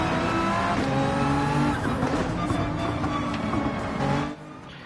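A race car engine in the video game Gran Turismo 7 roars loudly and steadily as it accelerates through the gears, with dense, continuous revving that drops away sharply near the end.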